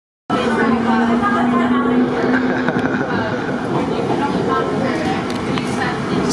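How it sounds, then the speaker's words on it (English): Steady rumble of a train ride in Italy, near Naples, a constant low roar with a faint rising whine, while people talk over it throughout. "So we're on a train."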